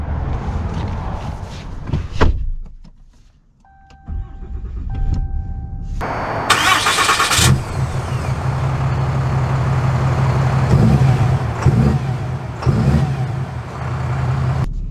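A 2023 Ram 2500 Big Horn with a Cummins diesel engine rumbles to life after a door thud and a brief quiet spell, then settles into a steady, close diesel idle.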